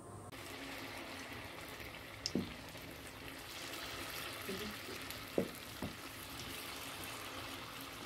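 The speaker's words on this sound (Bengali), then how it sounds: "বলগুলো কিন্তু একটু কালো করে ফ্রাই করে নিতে হবে" Kalojam dough balls fry in hot oil with a steady, soft sizzle and bubbling hiss throughout, broken by a few small pops and clinks, with no talk.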